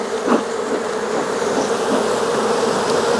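Honey bees buzz around an open hive in a dense, steady drone, close and loud, as a beekeeper smokes them off the edge of a super; no talking.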